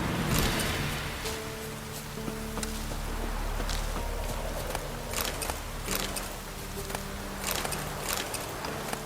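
Rain falls in The Witcher 3: Wild Hunt as a steady hiss with scattered sharp drop ticks, heard alongside faint game tones and ambience, with no talking.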